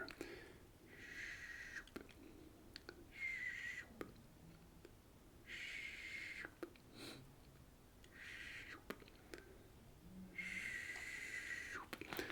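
Snoring from a man two rooms away, faint and distant, comes as repeated breathy, wheezy bursts about every few seconds against a quiet room.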